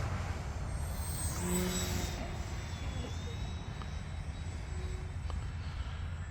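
An E-flite Valiant RC airplane flies overhead at a model aircraft field, its faint electric motor whine rising and falling in pitch against steady background noise, with no voices.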